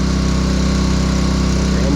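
A Detroit 60 series diesel engine powering a yellow booster pump runs at a steady, loud, droning idle, its low pulsing rumble constant and close throughout.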